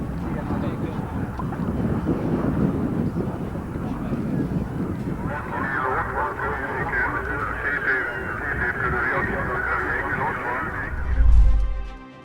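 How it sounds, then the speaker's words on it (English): A MiG-21 jet fighter roars during takeoff at a military exercise in Veszprém, Hungary, a loud, steady turbine rumble mixed with wind buffeting on the microphone, rising toward a heavy low thump near the end. "a MiG-21 jet fighter suddenly stopped shortly after takeoff"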